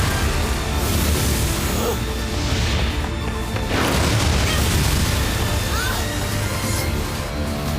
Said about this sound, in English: Just blasting with the fire of the explosions.